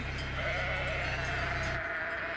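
Sheep on a rural roadside, a steady dense layer of bleating and flock noise from livestock that continues throughout, then thins out and quiets near the end.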